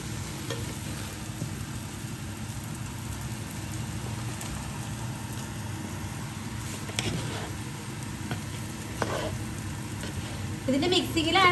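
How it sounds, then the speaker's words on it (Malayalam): Egg fried rice is stirred in a hot pan, giving a continuous close sizzle with scraping and tossing sounds that grow louder near the end, with no clear talking. "ഇത് നന്നായിട്ട് ഇളക്കി കൊടുക്കുന്നത്"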